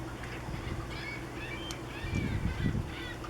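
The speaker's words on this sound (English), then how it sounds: "You hear the seagull" Harbor ambience at Burlington Harbor beside a docked boat on a calm, not very windy day: faint, wavering seagull calls over a steady low rumble and lapping water, a couple of louder bursts near the end.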